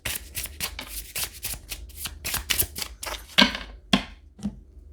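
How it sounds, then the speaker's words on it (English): A deck of oracle cards is shuffled by hand up close, a quick series of crisp riffling and slapping bursts in uneven rhythm, ending with a few sharper taps, with no talking. "I'm going to shuffle 3 times and pull from the top."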